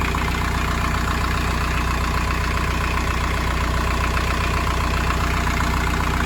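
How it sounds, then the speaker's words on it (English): A vehicle engine idles steadily and loudly up close while an alternator-to-battery charger installation charges the battery, a constant even rumble with a fine rhythmic knock and no voices. "Right, the engine's running."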